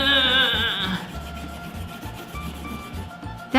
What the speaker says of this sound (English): I'm going to press it as hard as I can to try to break it.